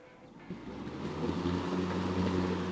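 Electric zero-turn lawn mower blades spin up into a steady low whirring hum, growing louder over a couple of seconds and holding close by.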